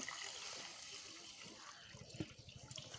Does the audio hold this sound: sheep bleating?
no